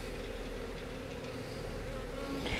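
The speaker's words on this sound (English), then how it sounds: "there's still gonna be some bees get out" Steady insect buzzing from many honey bees being installed into a hive, a continuous droning hum with no pauses, fairly close and constant throughout.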